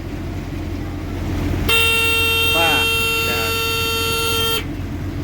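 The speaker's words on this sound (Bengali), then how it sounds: "হর্ন আছে নি গো হর্ন বাজাও" A vehicle horn sounds one steady, loud honk lasting about three seconds on a road, with a voice briefly heard over it.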